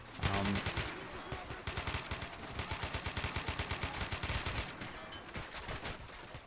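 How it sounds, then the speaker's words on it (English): Rapid automatic gunfire in a combat video game during an ambush on a Russian convoy, a dense, steady rattle of fast repeated shots lasting several seconds, loud and close. "What do you think of those gun sounds, huh?"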